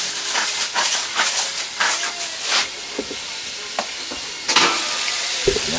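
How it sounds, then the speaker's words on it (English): Beef searing with garlic, pepper and salt in a pan on a cabin stove, a loud continuous sizzle and hiss broken by repeated utensil scrapes and clinks, close by with no voices. "Sear the beef a bit."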